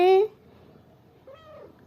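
A mother cat gives a short sharp meow, then after a pause a softer, drawn-out second meow; otherwise quiet.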